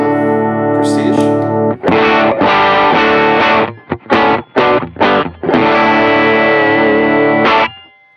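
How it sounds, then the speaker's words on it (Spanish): Electric guitar driven hard through a Prestige drive pedal into an amp, loud distorted chords ringing out in sustained strums broken by short choppy stabs, full and saturated with no talking. "Más distorsión del amplificador y un pin más de volumen."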